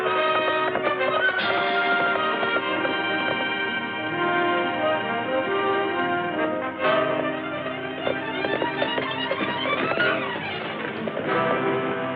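Horse hooves clip-clop steadily as the horse is ridden, set against a full orchestral music score that plays continuously throughout a 1939 western film scene.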